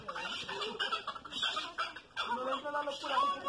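An angry parrot squawks and chatters in repeated harsh, raspy bursts, fairly close and fluctuating in loudness over several seconds.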